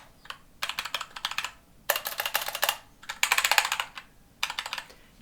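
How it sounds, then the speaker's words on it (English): Fingers type on a keyboard with tactile brown mechanical switches, close crisp clacking in several quick bursts separated by short pauses, with no voices. "So tactile keyboard switches sound like this."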